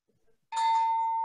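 A single bell struck during an online meeting gives one clear ring that sustains and slowly fades after a brief faint rustle, loud and close over the connection.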